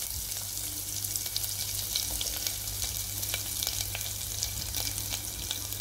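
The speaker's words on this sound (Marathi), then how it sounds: "तेल छानपैकी तापलेले आहे, जिरे घालून घेऊया। त्यानंतर लसूण अद्रक पेस्ट," Cumin seeds and garlic-ginger paste sizzle steadily in hot oil for a spicy khichdi, a continuous close frying hiss with faint stirring clicks and no talk.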